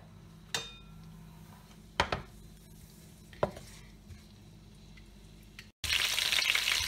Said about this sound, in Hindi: हरी मिर्चों को हमने अच्छे से भूनना है